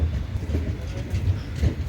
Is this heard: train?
yes